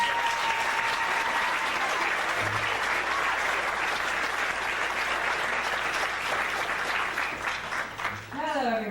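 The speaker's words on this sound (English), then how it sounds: "Give her a round of applause." Sustained audience applause fills a large room as a woman is welcomed to the stage, dense clapping steady throughout with crowd noise and a brief cheer near the end.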